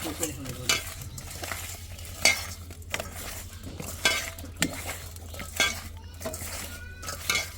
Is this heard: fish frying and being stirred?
yes